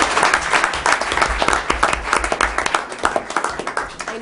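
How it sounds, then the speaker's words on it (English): People at a board of education meeting clap for Kathy, producing moderate applause from a modest crowd with individual claps distinct, steady throughout the few seconds. "We could probably clap for her."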